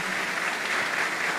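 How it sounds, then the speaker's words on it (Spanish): A church congregation applauds during a parish Mass, a loud, dense wash of clapping that stays steady and continuous, heard alone without speech. "Quisiera destacar que me dé un fuerte aplauso a estos hermanos."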